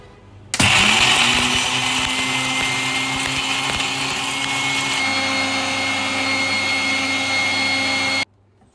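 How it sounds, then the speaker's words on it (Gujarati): An electric grinder whirs loudly and steadily as it crushes tea masala spices into powder, starting abruptly, changing pitch slightly midway, then cutting off sharply near the end. "હવે આ વસ્તુને આપણે ક્રશ કરી લઈએ અને એનો પાવડર તૈયાર કરી લઈએ"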